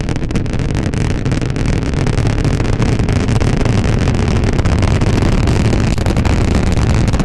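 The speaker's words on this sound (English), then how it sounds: "With 33 Raptor engines fully lit on the booster, the launch vehicle was able to clear the launch tower quickly." A SpaceX Starship Super Heavy booster lifts off on its second flight with all 33 Raptor engines lit, a loud, continuous broadband roar with crackling texture that holds steady for several seconds.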